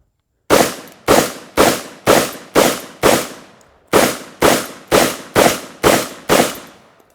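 Light birdshot target loads fire from a Vepr 12 AK-style magazine-fed semi-automatic shotgun: six loud, evenly paced shots, a short pause, then six more booming reports outdoors.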